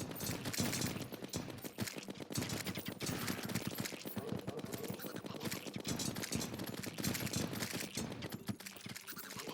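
Hellstorm gun from Terraria Calamity in Malice Mode fires in a rapid, unbroken stream of loud automatic shots, dense and sustained for the whole stretch with no talking.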